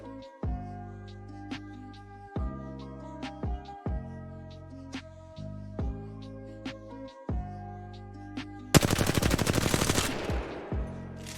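R-301 rifle fire in Apex Legends, sharp automatic bursts repeating in an even rhythm with short pauses between, ending in a louder, denser volley with a metallic rattle, loud and close with no speech.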